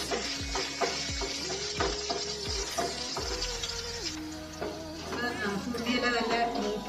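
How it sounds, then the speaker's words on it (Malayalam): Green chillies and shallots sautéing in a pan for a pumpkin leaf curry, a continuous close sizzle with several sharp spatula knocks against the pan early on and steady stirring after. "രണ്ട് പച്ചമുളക്, ചെറിയ ഉള്ളി, നല്ല വഴറ്റി കൊടുക്കുക"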